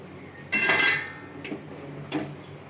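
A metal lid lifted off a cooking pot of fish curry with simmering potatoes: one bright clanging clatter, then two lighter metallic knocks a moment apart, close and clear over a quiet room.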